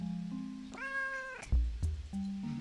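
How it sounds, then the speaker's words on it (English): A pet cat lets out a single drawn-out meow near a microphone, heard alone against a quiet room with a few low thumps around it. "Okay, you got a meow."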